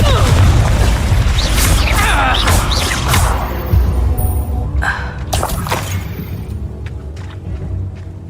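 Confringo fire spell explosions in Hogwarts Legacy on PS4 Pro: loud, dense blasts and shattering crashes with whooshing bursts, heaviest in the first few seconds and then trailing into rumbling impacts and debris.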